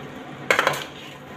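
A lid goes onto a pot of potato curry in a home kitchen, giving a quick cluster of three or four bright metallic clinks that ring briefly and fade, close by and otherwise quiet.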